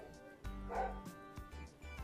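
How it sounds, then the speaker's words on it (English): A dog barks and yips repeatedly in short bursts, moderately close, with a few whimpering sounds between barks. "I'm sorry about the dog. You're going to have to deal with it."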